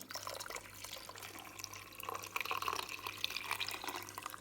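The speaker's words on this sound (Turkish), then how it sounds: "Şimdi böyle pirincimin üzerine hemen şöyle bir litre sütümü alıyorum." A litre of milk pours over rice in a pan for baked Turkish rice pudding, a soft, close liquid splash and trickle that runs steadily for a few seconds with no talking.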